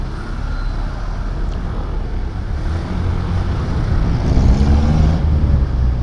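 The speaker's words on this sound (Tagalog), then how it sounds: "Dito traffic kasi crossing dito." Road traffic at a busy crossing: a steady low rumble of passing vehicles with engines swelling louder in the second half, plus wind buffeting the microphone, no voices.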